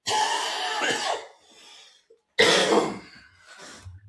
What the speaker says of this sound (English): Can I mute whenever I'm coughing?